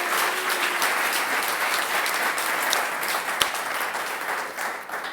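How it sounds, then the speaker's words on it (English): An audience at an event on the history of HIV/AIDS claps together in a sustained, dense round of applause that holds steady and tapers slightly near the end. "Give one more round of applause for everyone who read"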